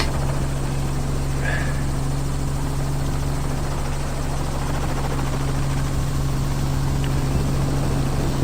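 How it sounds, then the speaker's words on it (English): A vehicle engine idles in the background on a wildlife outing in the bush, a steady low rumbling drone that holds unchanged throughout. "you might be hearing the engine running in the background"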